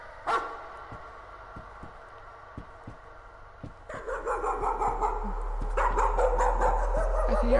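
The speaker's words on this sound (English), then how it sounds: "There's the dog! I can hear the dog." A dog in the horror game Layers of Fear barks in sharp, repeated yips and woofs, sparse at first and then faster and louder over a low hum, with no voices.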